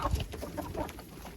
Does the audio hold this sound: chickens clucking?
yes